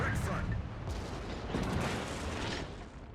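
Naval guns boom in a warship video game, a dense, loud barrage of overlapping shots and rumbling blasts filling the whole stretch.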